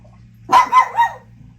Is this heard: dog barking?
yes